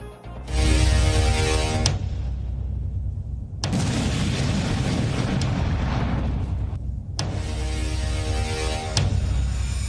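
Three massive car bomb blasts erupt one after another, each a loud, roaring burst of noise that cuts off abruptly before the next.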